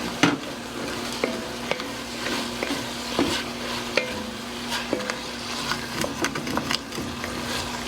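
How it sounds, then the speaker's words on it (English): A spoon scrapes the bottom of a pot of home-style chili as beer deglazes it, making repeated rough scraping strokes over a steady, close sizzle. "All we're doing is deglazing it, getting the stuff up off the bottom."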